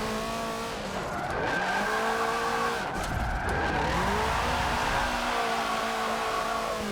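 Video game car with 2000 horsepower, engine revving high while tires squeal continuously in a long slide, with rising and falling engine pitch and no speech.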